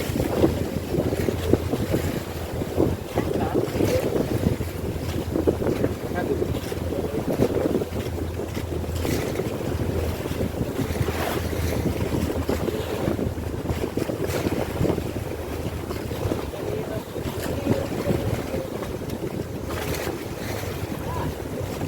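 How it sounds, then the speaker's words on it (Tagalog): Big waves wash and slap around a tour boat off El Nido, Palawan, under steady wind and engine rumble. The noise is loud and continuous, with no clear speech. "Laki na alon."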